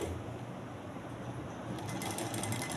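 A sewing machine stitches a round neck on fabric, a faint, steady mechanical whir with a fast running rhythm that continues without pause, soft in level and free of talk.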